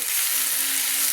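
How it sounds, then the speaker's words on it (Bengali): Steady, loud hiss and sizzle of a ginger, garlic and onion spice paste frying over high heat in a pan for an egg, yam and cauliflower curry, continuous and close. "দিয়ে ভালো করে একটু কষিয়ে নিচ্ছি"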